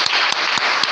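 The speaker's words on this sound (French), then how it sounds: "Alors nous allons acclamer très fort la première étape." A congregation at a church service applauding loudly, a dense wash of clapping with a few sharper rhythmic claps standing out, close and sustained for the whole second.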